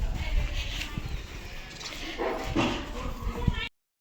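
A dog barks a few times out in a village lane beside a goat shed on the way to a Birappa jatara, the barks mid-distance and partly buried in steady outdoor noise and rumble.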